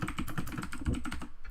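Quick run of keypresses on a computer keyboard testing keys in Mac OS X Key Caps, a dozen or so fast, close, clicky taps in an even rhythm with no voices.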